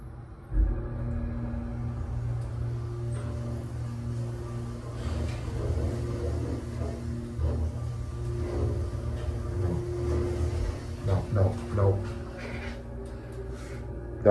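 Elevator motor running, a low steady hum and rumble with faint clunks and rattles, moderately distant and fairly quiet throughout.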